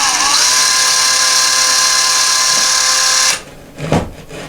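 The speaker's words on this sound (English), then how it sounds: "I'm going to drill very slowly." A power drill whines at a loud, steady pitch while boring a pilot hole into drywall for a toilet paper holder bracket, then stops abruptly, leaving a few faint clunks and handling sounds.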